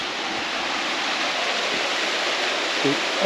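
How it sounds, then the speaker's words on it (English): Water rushes steadily into an old mine in Wales, a dense, constant roar like a small waterfall filling the whole scene, with a faint low voice near the end. "All the water going in there flows out through the long tunnel at the bottom of the mine."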